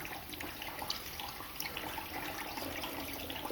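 Water from a bottle splashes and trickles over a part being rinsed after an ultrasonic cleaner test in a garage, a steady close-up splatter with a faint hiss for a few seconds.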